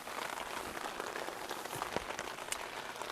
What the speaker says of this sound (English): Did the FORCEATT two-person dome tent survive the 16 hours of mostly heavy rain without leaking?